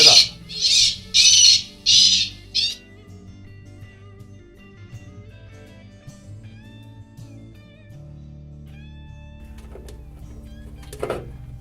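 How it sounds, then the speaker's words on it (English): A Bird Gard Super Pro Amp bird repeller blares synthetic bird distress calls: four loud harsh squawking bursts in quick succession open the sequence, then quieter electronic tones and hum follow, with one brief sharp call near the end. "The sound card contains all the bird sounds."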